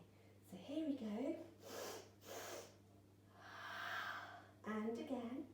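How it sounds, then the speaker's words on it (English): A person takes two quick sniffs, then lets out a long, soft sigh during a gentle children's yoga breathing exercise at a farm, with a calm voice speaking before and after. "We're going to sniff, sniff, and then sigh."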